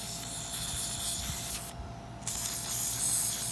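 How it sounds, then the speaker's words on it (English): An aerosol can of lubricant sprays in a steady loud hiss during work on a period brass mortise lock, cutting off for a moment before spraying again. "And emptying my can of lubricant."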